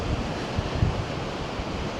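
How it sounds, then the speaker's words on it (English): Wind blows steadily outdoors at a coastal setting, a constant rough rumble buffeting the microphone with no speech. "I'm being challenged by the wind."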